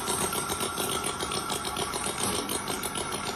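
A miniature 4.2 cc retro V-twin OHV combustion engine kit, modeled on a Knucklehead motorcycle engine, runs steadily with a fast, buzzing mechanical drone and rattling chatter throughout, close and loud with no voices.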